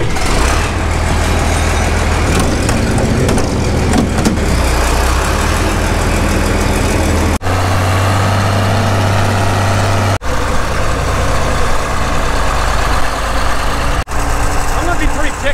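A John Deere 4230 tractor engine runs close and loud with a rough, steady diesel rumble, holding a constant rhythm through the whole stretch.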